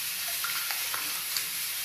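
A pressure cooker hisses in a home kitchen, a steady, loud, bright hiss with a few faint clicks and taps in it and no voices.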